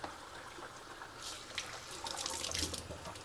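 Water runs steadily into a gallon container, a continuous gushing pour that grows brighter and louder toward the end as the vessel fills.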